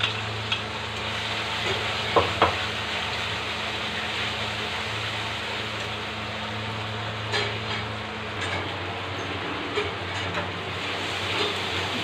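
Onion, garlic and ginger paste fries in a pan, giving a steady, dense sizzle that runs unbroken throughout, with a few faint clinks of stirring and no voices.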